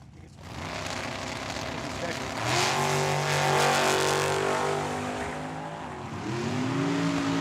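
A big block Chevy drag car accelerates hard down the Tucson Dragway, its engine roar climbing in pitch and swelling loud, then dropping back before rising again.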